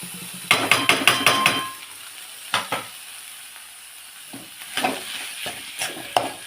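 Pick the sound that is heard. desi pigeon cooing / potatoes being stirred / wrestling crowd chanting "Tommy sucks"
potatoes being stirred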